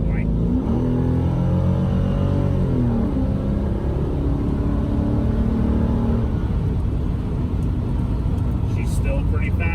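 A 1988 Porsche 928 S4 V8 with smaller resonators rumbles and revs while driving toward a stoplight, loud and close, with rising and falling engine tones throughout.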